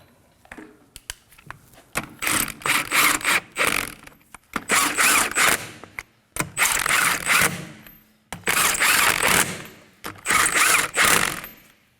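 A ratchet snugging the rear wheel lug nuts on a 2011-2016 Kia Optima, loud close bursts of rapid clicking repeated in five or six runs separated by brief pauses.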